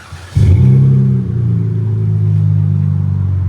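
A car engine breathing through a Jones exhaust muffler jumps from a low idle into a sustained rev, a deep, loud, close rumble that eases slightly and holds steady.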